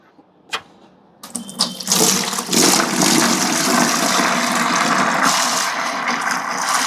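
Aquarium tank water being drained, a couple of sharp knocks and then a loud, steady rushing gush of water that runs on continuously.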